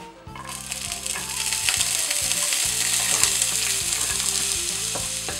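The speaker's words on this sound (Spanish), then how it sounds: "en este mismo aceite pues vamos a dorar el ajito con la cebolla" Garlic and onion fry in oil in a pan, a loud, steady sizzle with crackling spatters, heard alone with no talk.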